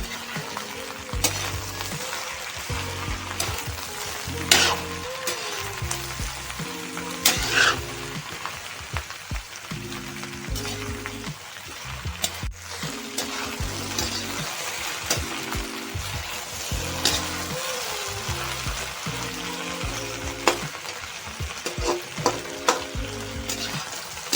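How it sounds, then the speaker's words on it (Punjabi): Green chillies and okra fry and get stirred in a pan for a home-style bhindi sabzi, with steady sizzling under repeated rhythmic spatula scrapes and clatters. "ਹੁਣ ਅਸੀਂ ਨਾਲ ਹੀ ਇਹਦੇ ਵਿੱਚ ਜਿਹੜੀਆਂ ਹਰੀਆਂ ਮਿਰਚਾਂ ਵੀ ਐਡ ਕਰ ਦਿੰਦੇ ਆ ਜੀ ਅਸੀਂ ਉਹਨਾਂ ਨੂੰ ਵੀ ਇਹਦੇ ਨਾਲ ਹੀ ਭੁੰਨਣਾ ਸਟਾਰਟ ਕਰਾਂਗੇ"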